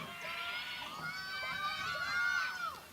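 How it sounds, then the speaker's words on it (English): Young first and second graders shout and cheer in high, excited voices on the sideline of a girls' varsity lacrosse game. The cheering is fairly close and steady, rising toward the end. "Same rambunctious first and second graders here cheering on our team."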